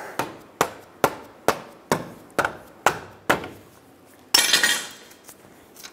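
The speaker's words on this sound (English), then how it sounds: "You may need to tap it with a hammer." Eight sharp metallic taps of a hammer on a ball joint bolt of a 2007-2012 Nissan Altima in a steady rhythm, close and crisp, followed by a brief scraping rattle.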